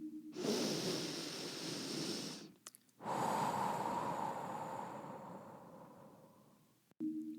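A slow, deep breath drawn in and let out, first a long airy inhale, a brief pause, then a longer exhale that fades gradually, close and alone with no talking.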